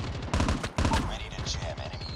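Rapid bursts of M16 assault rifle fire in Call of Duty Mobile, two quick loud volleys of several shots each, followed by lighter pops and game effects.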